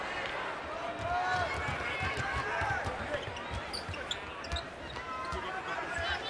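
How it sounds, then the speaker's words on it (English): During an NBA game at the Pepsi Center in the 2003-04 season, a basketball thumps rhythmically on the hardwood while sneakers squeak sharply across the court, under a low murmur from a large but quiet crowd. "you can hear the shoes squeaking and the ball bouncing"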